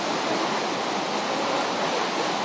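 Ocean surf in the aftermath of Hurricane Irene, a continuous dense roar of rushing water, loud and unbroken throughout with no voices.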